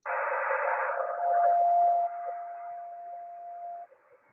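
A two-metre FM amateur radio carrier whistle holds a steady tone under a burst of hissy static, then cuts off after a few seconds, faint and distant.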